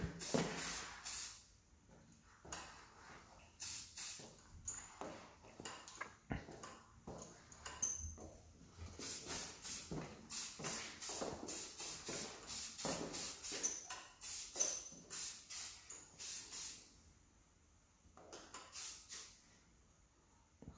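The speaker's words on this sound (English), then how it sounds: "So just popping in a little bit of spray." A spray bottle mists hair during a women's short graduated layered bob haircut, giving a series of crisp hissing bursts in uneven clusters, close and fairly loud, with no talking.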